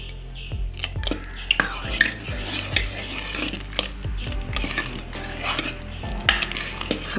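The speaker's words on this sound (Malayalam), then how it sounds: "കറിവേപ്പില ചേർത്ത് കൊടുക്കാം നന്നായിട്ട് ഇളക്കി കൊടുക്കാം" Puzhukku with curry leaves is stirred in a pot: repeated scraping clinks of a spoon against the pot come in an uneven rhythm, close and clear, over a low steady background hum.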